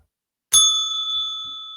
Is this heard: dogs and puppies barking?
no